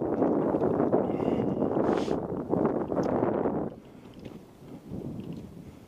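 A gust of early-fall wind buffets the microphone at an outdoor flying field, a loud rumbling whoosh that eases after a few seconds and then swells again.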